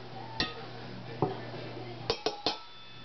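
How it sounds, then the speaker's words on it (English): Pasta tipped into a salad bowl gives a few light clinks and taps of a utensil against the dish, one at a time and then three in quick succession, close by over a low steady hum. "So now what I'm going to do is put some of the pasta in."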